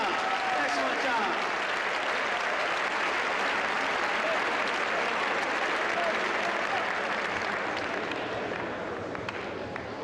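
An audience at a speech given at the Naval Academy breaks into sustained, dense applause, many hands clapping loudly and evenly throughout with a few voices under it, tapering slightly at the end.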